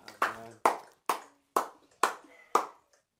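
Six sharp, evenly spaced hand claps from a worshipper urged to acclaim the Lord during a midnight prayer service, each a crisp, fairly close smack with a short decay and brief silence between.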